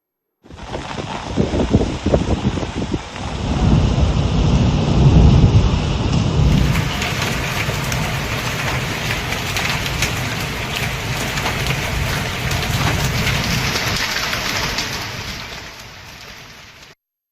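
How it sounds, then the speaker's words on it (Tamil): A hailstorm in Uttar Pradesh brings loud, steady rain and hail drumming on surfaces, with rumbling thunder rolling through the first seconds and the downpour continuing unbroken to the end. "மழை காசியாபாத் மாவட்டத்தில் உள்ள சாகியாபாத் உள்ளிட்ட இடங்களில் ஆலங்கட்டி மழை"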